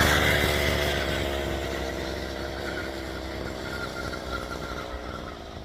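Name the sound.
mini bike motorcycle engine running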